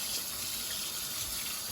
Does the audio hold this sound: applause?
no